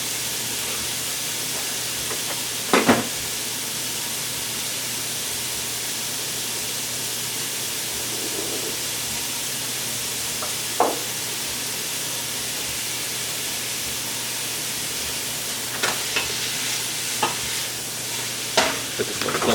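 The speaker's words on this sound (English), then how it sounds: "we're gonna saute the onions just a few minutes" Onions, garlic and mixed vegetables sautéing in a pan give off a steady loud sizzle, with a few scrapes of stirring now and then.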